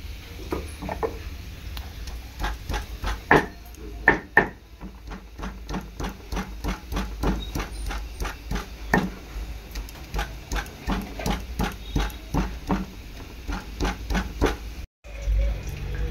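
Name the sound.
ginger and garlic being ground on a stone slab (shil)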